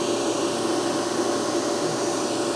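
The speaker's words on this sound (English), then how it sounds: "we're going to start the vacuum pump up" An industrial vacuum pump runs with a steady, loud whooshing roar and a faint tonal hum beneath, constant throughout.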